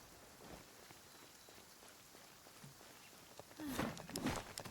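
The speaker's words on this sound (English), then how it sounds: "It's raining again." Rain falling in Genshin Impact during an Arlecchino story quest, a faint steady patter on surfaces with a few nearby footsteps and rustles rising toward the end.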